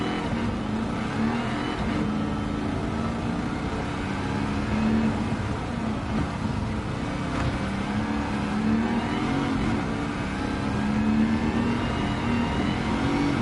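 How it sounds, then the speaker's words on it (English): A supercharged Pontiac GTO Judge in Gran Turismo 7 revs with a steady engine drone and a high whine riding over it, a constant, fairly loud sound that swells slightly without a break. "I love hearing that whine of that supercharger."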